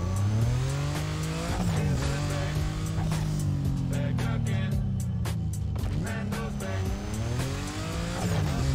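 In the Need for Speed: Most Wanted video game, a car engine drones and revs with shifting pitch as it drives, while tires squeal and skid over the continuous engine noise.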